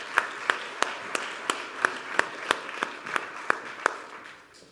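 Audience at the EU Ocean Days 2026 event applauding after a minister's introduction, heard as a steady patter of many hands with about a dozen sharper, evenly spaced claps standing out, moderately loud and fading toward the end.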